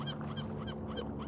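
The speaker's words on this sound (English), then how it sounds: "Seagulls flying." Seagulls by a Pacific harbor give a quick run of harsh, honking calls that repeat in an uneven rhythm over a steady background, fairly faint with no one talking.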